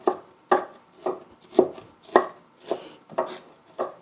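Knife chopping vegetables on a board for Korean mung bean pancakes (nokdu bindaetteok), eight evenly spaced crisp chops, close and clear, with no talk.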